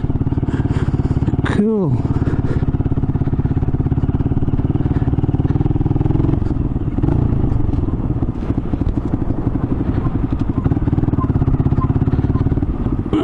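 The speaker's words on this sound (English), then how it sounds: "that is the 125 Honda, less the Grom sticker" A Honda 125 motorcycle engine idles close by with a steady, rapid low putter and some clattering, a brief rising rev near the start, and a person speaks briefly over it.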